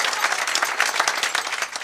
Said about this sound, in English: Can we have a little clap for